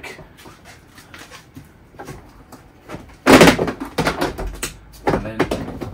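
A car door panel on a Smart car is pried loose from its retaining clips: a sharp, loud plastic crack and pop, then several scraping, creaking knocks as the trim flexes free, heard up close.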